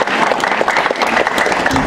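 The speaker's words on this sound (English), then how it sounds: "I would love to tell her that we gave her a huge round of applause" A graduation ceremony audience gives a loud, sustained round of applause, dense and continuous clapping filling the hall from start to finish.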